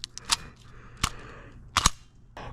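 A G&G TGM R5 ETU MP5-style airsoft gun loaded with 0.28 gram BBs fires three sharp, close single shots spaced about a second apart, with a quieter mechanical click trailing at the end.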